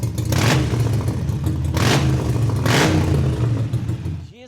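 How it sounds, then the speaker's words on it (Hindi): A superbike with a Big Radius aftermarket exhaust revs hard several times, loud, close bursts above a rumbling idle. "तो आवाज़ सुना देता हूँ कि बिग रेडियस की आवाज़ कैसी होती है, लेट्स हियर इट।"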